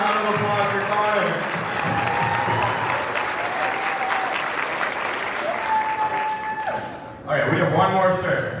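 An audience at a community sports opening ceremony applauds in a dense, sustained clatter of clapping, briefly dipping before a fresh burst of applause near the end; a voice on a loudspeaker talks over it.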